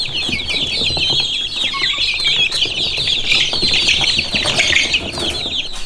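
Red mottled Ancona bantam chicks cheeping and peeping in a dense, continuous chorus, close by, with a few soft rustles and scuffs among them and no talking.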